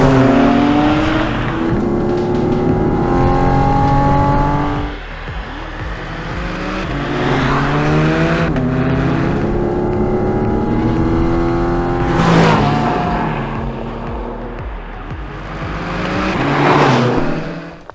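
A Porsche RS sports car accelerates hard through several gears. The engine note climbs in pitch, drops at each upshift and climbs again, loud and close, in three long surges with short lifts between them.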